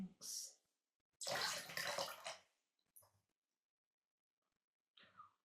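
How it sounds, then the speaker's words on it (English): Water poured into a bowl during a summer solstice ceremony, spring water from the White Spring at Chalice Well, heard as a bright splashing pour of about a second, then a brief trickle and a few faint drips. "We pour into the bowl of water the waters of the white springs."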